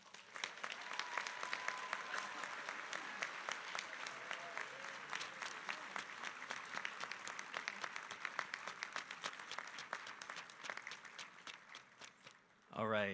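Faint, distant crowd applause at a college commencement ceremony, a steady patter of many hands lasting over twelve seconds before a sudden louder noise at the end.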